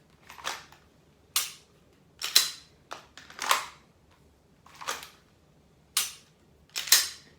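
An unloaded pistol gives eight sharp, dry trigger clicks during practice without ammunition, each click short and snappy and spaced about a second apart, loud and close with quiet gaps between.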